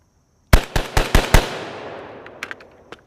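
A 12 gauge Origin 12 shotgun fired in rapid succession outdoors: five loud, sharp blasts about a quarter-second apart, each trailing into a rolling echo, followed by faint distant pops.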